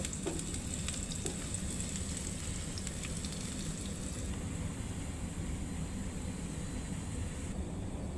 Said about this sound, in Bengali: এখন দিয়ে দেব রসুন। এখন হালকা বাদামি কালার করে ভেজে নেব।